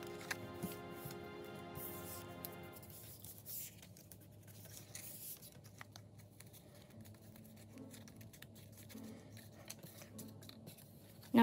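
Scissors snip out the corners of a paper piece for a 3D coffin box, a run of soft, close cuts and paper rustles in a quiet room, alone with no voices.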